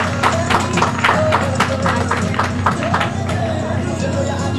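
Clapping from the audience at a health ministry event, a steady patter of many hands with sharp individual claps, mixed with murmuring voices and a low hum underneath.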